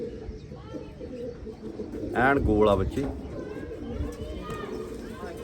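Pigeons coo softly in the background during a pigeon-flying session, with a louder burst of fluttering and calls midway, while someone talks over them.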